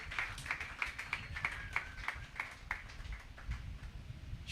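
Church congregation clapping together in a steady, even rhythm, about a dozen sharp claps in a row, fairly faint, before the rhythm loosens and trails off.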